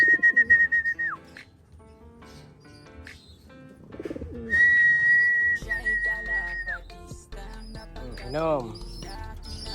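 Pigeons are heard near a water source, with soft bird sounds and coos mixed with whistles and other tonal chirps, while a person talks intermittently over them.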